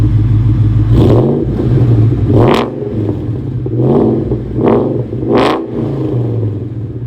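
A 2003 DSG Cobra's exhaust burbles at idle, then rises in four sharp revs at a steady rhythm, each one a loud, close growl that falls back to the low rumble.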